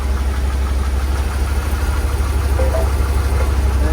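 A 2009 Chevy Suburban engine idles steadily with a deep, even rumble throughout and no voices.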